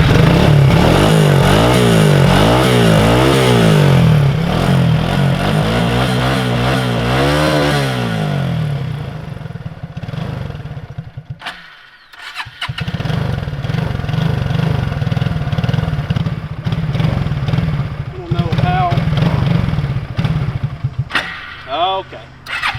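A Suzuki King Quad 300 4x4 ATV running in four-wheel drive on old, crusty fuel gives a loud, close engine drone that rises and falls in pitch as the throttle varies, dips briefly, then settles back into a steady rumble.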